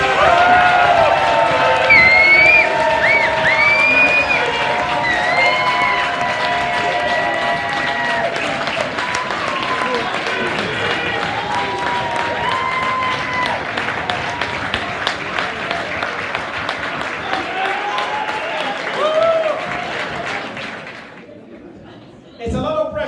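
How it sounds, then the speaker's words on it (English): Crowd at the Croydon Cougars end-of-season award ceremony bursts into loud, sustained applause with cheers and whistles for an under-14s award winner, lasting about twenty seconds before dying away abruptly. "let's give him a resounding round of applause, Phoenix Brown!"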